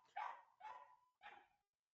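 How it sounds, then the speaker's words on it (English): A pet dog barks indoors, three sharp separate barks spaced about half a second apart, fairly close and clear, with no talking over them. "there must be something that's setting my dog off."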